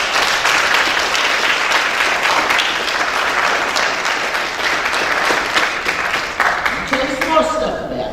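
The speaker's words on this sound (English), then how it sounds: "I want to applaud him" An audience applauds a Black History Month speaker at UTSI: dense, steady clapping fills the hall, close and loud, with a voice starting to speak near the end.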